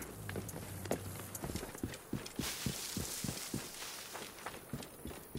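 A camel walks in the video game Assassin's Creed Origins. Its footfalls make a steady, evenly spaced clopping pattern, close and moderately loud over a soft background wash.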